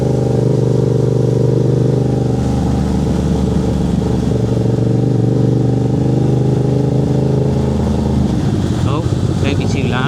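A new motorbike's engine runs loud and close with a steady, rough drone that shifts pitch as it rides. A voice carries over the engine.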